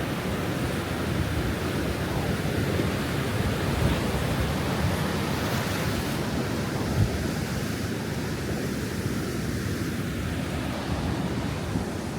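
Winter seaside at Bridlington: a steady, loud wash of surf and wind rumble goes on without a break, broad and noisy with no distinct breaks or voices.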